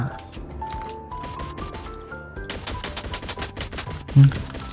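Rapid bursts of gunfire ring out in the mobile battle game Free Fire, sharp automatic shots crackling loudly over game music in the second half of the clip.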